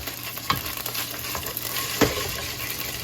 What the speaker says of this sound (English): I want to give that a generous simmer.